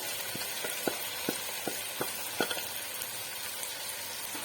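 Marinated chicken sizzles and fries in homemade masala over a medium flame, a steady crackling hiss broken by soft spoon clicks against the pot at a loose, irregular pace.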